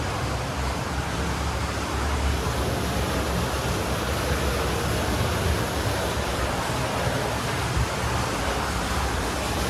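Borewell water gushes into an 80-foot-deep farm well, a continuous broadband roar of falling, splashing water that stays steady and loud with no voices.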